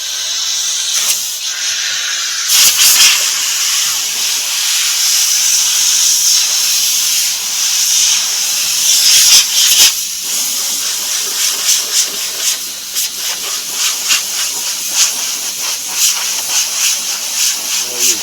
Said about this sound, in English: Go crank up my air compressor.